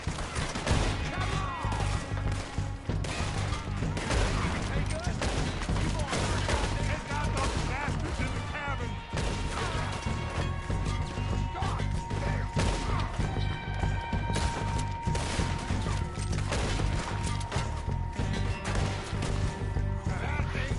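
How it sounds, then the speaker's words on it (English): A Red Dead Redemption 2 shootout near cabins, with constant overlapping gunshots cracking and booming in dense, rapid succession, loud and unbroken across the whole stretch, and voices calling out beneath. "First shootout of the game."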